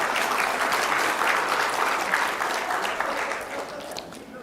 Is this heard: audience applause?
yes